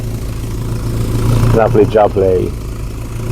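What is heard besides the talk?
Volvo 240 engine idling with new welded exhaust tip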